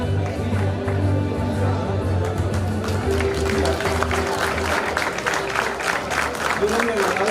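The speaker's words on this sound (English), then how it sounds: "give them a round of applause." A graduation ceremony crowd breaks into sustained clapping, dense and steady applause that swells midway and carries on to the end, with a faint voice over a speaker system at the start.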